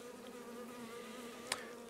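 Honeybees hum at a hive in a steady, low drone close by, with one brief click partway through.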